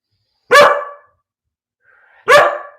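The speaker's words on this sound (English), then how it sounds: "Hey, stop barking, please." Two loud, close dog barks separated by a pause of over a second, with a brief low whine just before the second.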